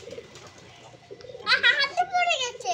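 An injured pigeon, hurt by an electric shock, coos softly while raw turmeric is pressed onto its wound; the low calls come close and intermittent amid handling noises and murmured voices.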